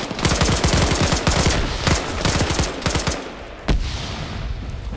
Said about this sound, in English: More explosives going off. Zoni opening up with some grenades.